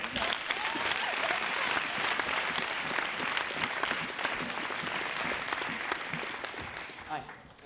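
An audience at a business case competition final breaks into loud, dense applause that holds steady for several seconds before thinning out at the end, with voices mixed in beneath the clapping.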